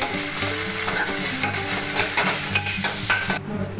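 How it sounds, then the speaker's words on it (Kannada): Drumstick leaves frying in oil in a pan, a close, steady sizzle with scraping stir strokes, then the sizzle drops away sharply near the end. "ಹಾಕಿ ಫ್ರೈ ಮಾಡಬೇಕು. ಸ್ವಲ್ಪ ಹಸಿ ಸ್ಮೆಲ್ ಹೋಗ್ಬೇಕು."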